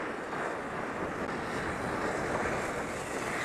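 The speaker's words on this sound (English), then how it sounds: "And they're blowing snow again, like crazy here." Snowmaking machines at Stratton ski resort blast snow with a loud, constant roaring hiss and no break.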